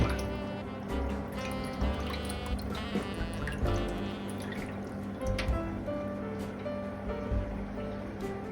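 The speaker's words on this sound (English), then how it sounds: "now we're just gonna run off the water from off it." Water drips and trickles off soaked sorrel being drained, with irregular patters and small splashes close by.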